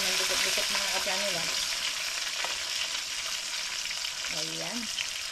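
Marlboro grouper pieces fry in a pan with oil, giving a dense, loud, continuous sizzle and crackle throughout, with faint voices briefly audible under it.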